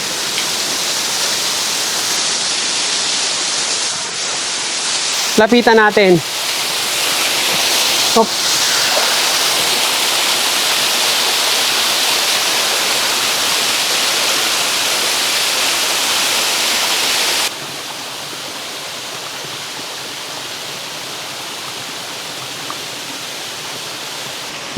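Digisit Falls, a tall waterfall in Aurora, gives a steady broadband rush of falling water throughout, while a brief voice and a couple of short clatters rise above it early on.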